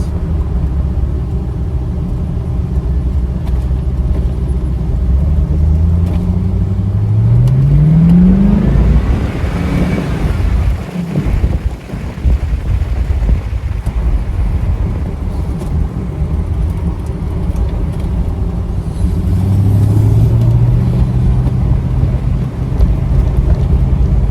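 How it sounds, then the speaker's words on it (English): A 1996 Chevrolet C4 Corvette with an LT4 engine and 6-speed manual drives along under a loud, steady engine drone, with revs rising through gears and a brief dip midway as it shifts. "This is only my second POV drive in the Corvette."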